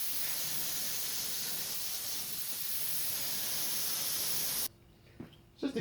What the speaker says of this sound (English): I'm using a touch-up gun because it really doesn't matter what the finish on this is like